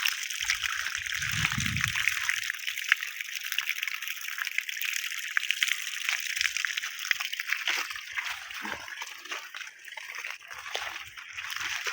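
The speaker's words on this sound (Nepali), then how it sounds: "मूलको पानी खानको लागि जाँदैछौँ है हामी चाहिँ गाइज" Cold spring water at a mountain source in a forest trickles and sloshes steadily and close by throughout, with brief low bumps of handling in places and no talking.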